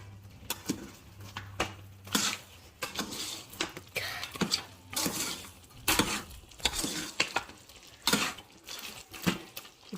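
Desi chicken curry pieces being stirred in hot oil, with a spoon repeatedly scraping and clattering against the pot over a soft, continuous sizzle.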